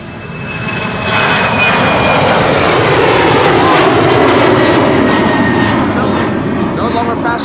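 An Embraer 190 jet takes off at Amsterdam Schiphol Airport, its engine roar swelling after the first second into a loud sustained rumble and whine that holds steady throughout.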